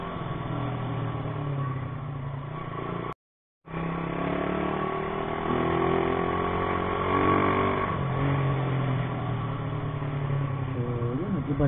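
A motorcycle engine runs steadily during a ride, a close droning note that rises as the bike pulls, broken by one brief dropout.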